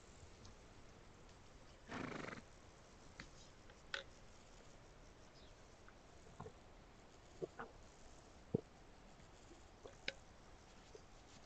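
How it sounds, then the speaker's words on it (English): A video game horse walks on its own and neighs, with a faint, muffled whinny early on, then sparse, quiet hoof clicks and taps spread over a low background hum. "I like that the horse just kind of auto walks too."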